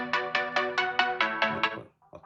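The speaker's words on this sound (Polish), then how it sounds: "A teraz głośniki. Porównamy sobie, jak ten telefon będzie brzmiał." A OnePlus 15R phone speaker plays a ringtone melody, eight evenly spaced bright tonal notes ringing out loud and close, followed by a short quieter tail of two faint notes.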